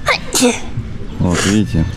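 A child sneezes once, close and sharp, in a hotel setting on holiday in Kemer, Turkey, with an adult speaking briefly before and after the sneeze.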